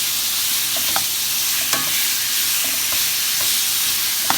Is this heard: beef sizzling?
yes